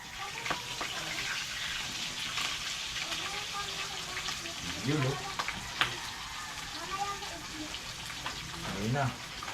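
Food frying in a pan, a faint steady crackling sizzle with scattered pops, with quiet voices and other background sounds mixed in.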